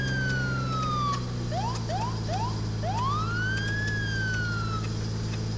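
Vehicle siren in the video game State of Decay Year One chirps in short rising whoops, then a long rising and falling wail, over a steady low engine drone, close and clear.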